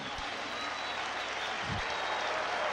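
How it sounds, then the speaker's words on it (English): Crowd at a 1979 West Virginia vs. Penn State college basketball game applauding and cheering in a steady, continuous roar that fills the whole stretch, heard from a distance. "this crowd is into the game"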